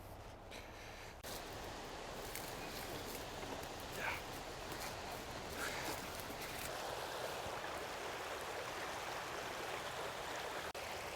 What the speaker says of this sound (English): we found a really nice spot here in a tributary stream leading into Coburg Creek